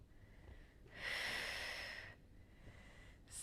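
Forceful exhalation through the nose and mouth while lifting during a basic floor workout, one long audible breath out followed by a shorter, fainter one, close to the microphone.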